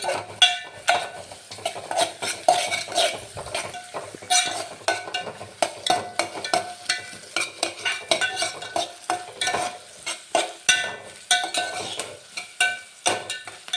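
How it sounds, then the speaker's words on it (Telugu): Curry with onions is stirred in a pan over heat as it darkens, a steady sizzle under repeated scraping strokes of a spoon against the metal, loud and close with an even rhythm. "ఇంకా కొంచెం నల్లగా వచ్చేదాకా తిప్పుకోండి."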